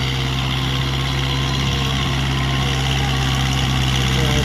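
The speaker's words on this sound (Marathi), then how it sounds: "अशा प्रकारे तिरी हाणतं ट्रॅक्टर." A tractor engine runs steadily while pulling a tiri implement across a farm field, a loud, constant low throbbing drone with no break or talking.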